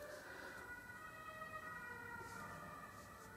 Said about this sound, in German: Ja, das war ein Krankenwagen.